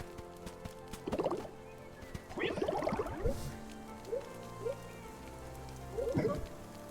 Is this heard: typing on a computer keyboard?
no